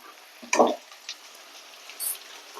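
Bitter gourd slices frying in a large pan, a soft sizzle with one brief louder stirring scrape near the start and a faint clink later.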